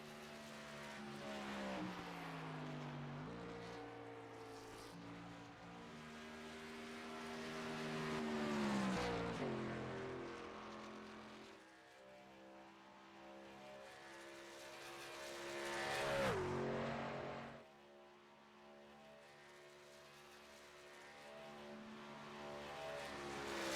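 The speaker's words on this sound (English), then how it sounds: "His first lap is gone green, the number 42 Silverado." Chevrolet Silverado race truck, number 42, lapping Pocono Raceway during Truck Series practice, its engine a steady harmonic drone that swells and shifts pitch as it passes, with broad surges around eight and sixteen seconds.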